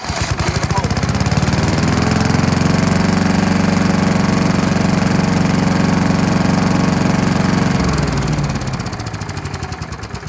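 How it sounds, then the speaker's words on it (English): A small four-stroke Briggs & Stratton lawn mower engine at half throttle runs loud and close with a steady rapid chugging, then the revs drop and it settles toward a rougher idle. "let's give it a start, because let's face it, who doesn't like to hear a mower run?"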